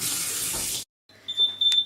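A burst of rushing, hissing noise stops abruptly, then a kitchen timer's high electronic beeping tone sounds in short pulses against a quiet background.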